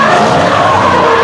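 A car tire skids hard on asphalt, giving a loud, sustained screech that holds steady for about a second without a break.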